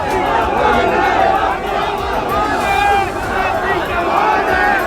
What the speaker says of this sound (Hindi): लाल परेड ग्राउंड के बाहर तो इतनी भीड़ जुट गई कि पैर रखने तक की जगह नहीं बची।